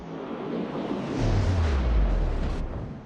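Heavy naval gunfire from the battleship Lyon in a warship video game, a deep rumbling boom that swells and rolls for a couple of seconds before fading.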